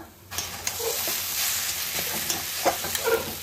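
Ash gourd curry with ghee, fried spices and grated coconut being stirred in a pan, a soft sizzle with several brief scraping clinks of the spoon.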